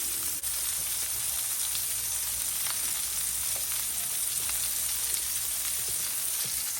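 Meatballs sizzle and fry in a pan, a steady, dense crackle with no pauses, moderately close and free of talk apart from occasional faint pops.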